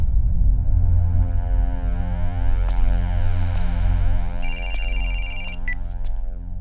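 A telephone rings with repeated electronic bell trills, loud and close, layered over a heavy sustained musical background in a Bhojpuri film scene, with no talking.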